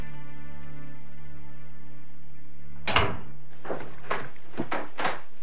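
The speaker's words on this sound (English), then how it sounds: "Can you close the door?" A door is pushed shut with a solid thunk, followed by a few lighter knocks and rattles as it settles, after a quiet stretch with a low background hum.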